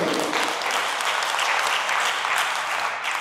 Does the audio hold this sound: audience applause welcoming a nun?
yes